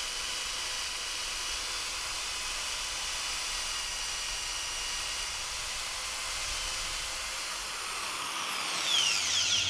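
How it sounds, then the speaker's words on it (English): A steady high-pitched corded drill whirs continuously while drilling pocket holes in wood with a pocket hole jig, its pitch rising slightly near the end as it works through material. "I'll just let the drill do the work"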